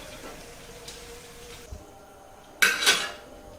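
Cooked okra is lifted out of hot frying oil with a metal utensil, quiet sizzle first, then a sharp scrape and clatter against the pan near the end.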